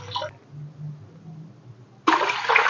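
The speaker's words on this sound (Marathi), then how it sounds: "आता आपण याच्यामध्ये पाणी घालायचंय." Water poured into a bowl of soaked lentils and rice for multigrain dosa batter, a steady close splashing rush that starts abruptly in the final second after a brief spoken word and low background hum.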